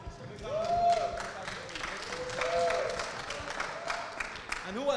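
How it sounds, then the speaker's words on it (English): An audience at a Dubai Police esports tournament claps and applauds, a sustained round of clapping that swells and fades with crowd noise and voices mixed in. "Big round of applause for Mr. Patrick."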